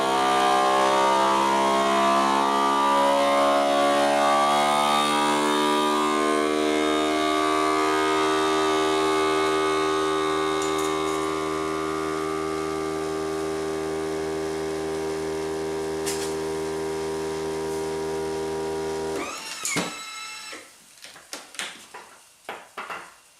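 A FoodSaver vacuum sealer pumps air from a canning jar lid, a loud steady mechanical drone with a strong hum that runs continuously for about nineteen seconds, then cuts off and gives way to a few sharp clicks and clatters.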